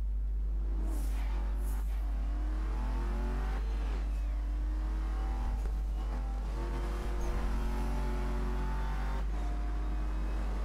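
Porsche Panamera Turbo S engine in Need for Speed Most Wanted 2012 drones steadily at mid revs, with rising and falling engine tones and a low constant hum underneath, no talking.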